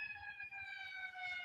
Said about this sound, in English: I'm apologize about the sirens if you hear it.